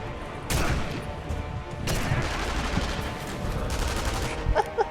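Gunfire in the sniper video game Sniper Elite V2: a dense, fairly loud stretch of overlapping shots and rattling bursts runs almost continuously, with sharper cracks at intervals and a quick cluster of hits near the end.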